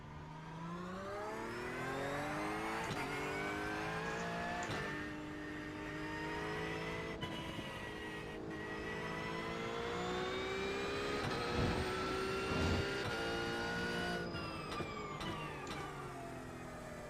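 Race car engine in iRacing at Brands Hatch, a sim racing game, revs and pulls through gears on a qualifying lap, a loud steady drone of rising and falling pitch with brief shift breaks, no talk.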